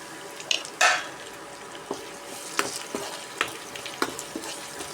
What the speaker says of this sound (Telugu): ఇప్పుడు ఆయిల్ హీట్ అయిన తర్వాత ముందుగా మనం కట్ చేసి పెట్టుకున్న ఉల్లిపాయలు వేసుకోవాలి